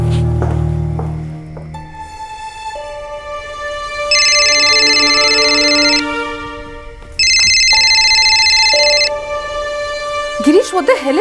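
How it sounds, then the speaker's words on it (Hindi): A phone ringtone plays in a crime drama scene, a steady electronic melody in repeating phrases with a pause between them, loud and clear, with a low voice briefly at the start. "गिरीश फोन क्यों नहीं उठा रहा है?"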